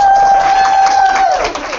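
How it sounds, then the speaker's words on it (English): Audience at a Thursday night motivational gathering applauding and cheering, a dense steady wash of claps and voices with a sustained shout on top, loud and close throughout. "That deserves another round of applause"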